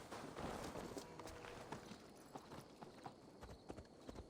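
Horse hooves clip-clop at a steady walking rhythm in Assassin's Creed Valhalla, fairly faint, with soft ambient game sound behind them.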